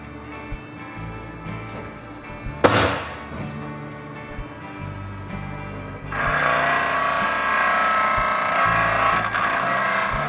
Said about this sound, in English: I'll sand it into shape.